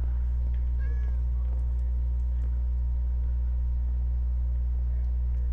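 A cat meowing in Minecraft: a couple of short mewing calls near the start, faint against a loud, steady low hum that carries through the whole stretch.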